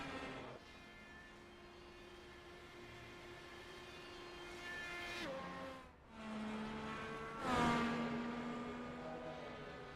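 Open-wheel race car engines drone and whine during qualifying, the pitch stepping down abruptly as gears change, with a brief drop and a louder surge near the end.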